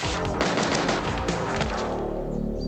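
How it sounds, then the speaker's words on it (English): Dense, rapid bursts of gunfire from the film Bad Taste crackle continuously and loudly, like a movie shootout, fading slightly toward the end. "Nice, tiptoeing around the gunfire"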